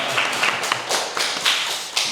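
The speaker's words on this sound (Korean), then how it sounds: "영광의 박수 올려드리겠습니다." A church congregation claps together during a Korean Sunday worship service. The sound is a brisk, roomy patter of many hands, with slightly rhythmic surges of claps throughout.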